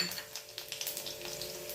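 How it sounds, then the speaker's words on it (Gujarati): Finely chopped garlic, two cloves' worth, sizzles in hot oil tempered with cumin, a close, lively crackle with a rapid run of small pops over a steady hiss, heard alone. "એમાં 2 કડિયા લસણની કટ કરેલી ઝીણી ઝીણી કટ કરી એ વઘારમાં આપણે નાખશું"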